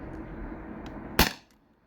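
A Beeman HDP50 Gen 2 air pistol fires a single rubber steel ball: one sharp, loud pop that decays quickly, with a low background hum before it and near silence after.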